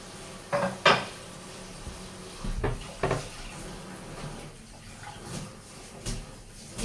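Dishes and pots clatter and clink as they are handled and washed, with a few loud knocks and softer scraping in between.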